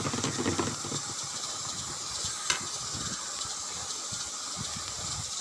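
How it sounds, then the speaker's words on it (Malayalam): Vinegar poured into a pan of sizzling ginger curry: a steady hiss and crackle of frying with faint stirring scrapes, and a brief sharper burst midway. "അപ്പോൾ ഞാനൊരു ശകലം വിനാഗിരിയും കൂടി ഇതിനകത്തോട്ട് ഒഴിച്ചു കൊടുക്കുന്നുണ്ട്"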